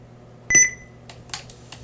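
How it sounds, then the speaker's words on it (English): A computer gives a single short electronic beep, fairly clear over a quiet low hum, followed by a few faint clicks and taps. "I apologize for the beeping sound that's from the computer"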